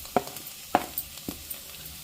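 Chopped betel leaves and onions fry in a pan with a soft, low sizzle, broken by a few sharp clicks and taps of stirring spaced about half a second apart.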